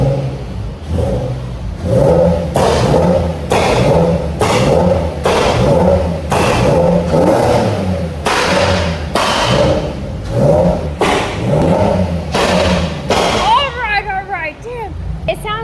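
A Nissan 350Z's VQ engine is blipped over and over, with rapid rhythmic rev surges repeating roughly every second, loud and near, while people talk excitedly throughout.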